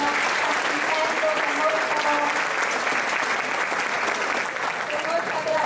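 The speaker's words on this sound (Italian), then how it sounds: "io farei un applauso ai ragazzi che stanno assistendo" Students in the Auditorium Montevecchi in Ascoli Piceno receive a long, even round of applause from the audience, dense and continuous with faint voices beneath.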